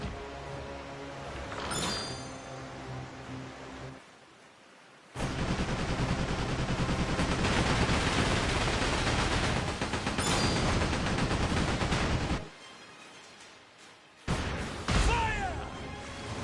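Ship cannons firing in Like a Dragon: Pirate Yakuza, a pirate game set in Hawaii: loud booming volleys and crashing blasts in repeated bursts, with a roaring stretch of sustained fire and brief lulls between salvos.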